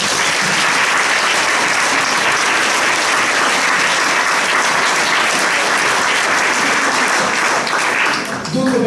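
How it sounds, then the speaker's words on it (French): A large audience breaks into loud, sustained applause, a thick continuous roar of many hands clapping that holds steady before easing slightly at the end. "Ça me fait vraiment plaisir, tout le monde applaudir."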